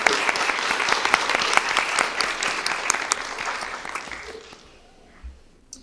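A school board meeting crowd gives a round of applause, many hands clapping in a thick, lively burst that gradually thins and fades out over the final second or so.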